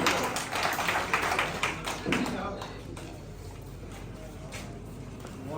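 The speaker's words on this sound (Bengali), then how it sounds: "সবাই জোরে করতালি দিব স্যারের জন্য।" An audience at a Liven Global program in Bogura, Bangladesh, clapping for the manager, a burst of loud applause that fades into a softer patter, with voices underneath.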